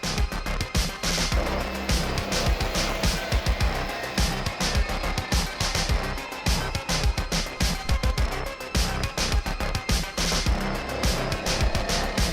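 Hot Wheels toy cars race down a drag track, producing a long, loud run of rapid clattering plastic rattles and rolling wheel noise.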